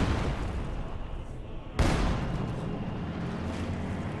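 Heavy gunfire from a unit in a Company of Heroes 2 Wehrmacht versus Soviets match: one sharp loud blast cuts through a constant roaring battle rumble, with continuous noisy combat ambience before and after.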